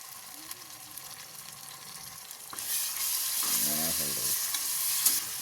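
Ginger garlic paste fries in a pan for vegetable biryani: a quiet background hiss that swells into a loud, steady sizzle halfway through, with stirring scrapes and rattles running over it to the end.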